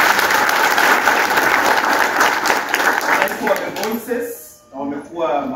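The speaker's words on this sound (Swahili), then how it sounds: "tuwapigie makofi mazuri sana" Audience at a memorial gathering clapping together, dense sustained applause that fades out near the end as a voice begins speaking.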